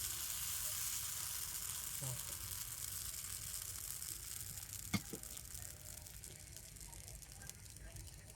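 Ripe mango batter sizzles in an oiled pan, a steady soft hiss that runs the whole time, broken by a faint clink near the middle. Quiet and close, with a voice talking over it.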